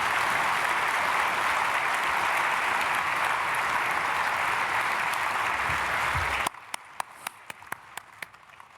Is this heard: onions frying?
no